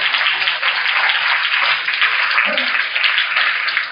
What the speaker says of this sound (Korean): 보통 이런 거 박수를 칩니다.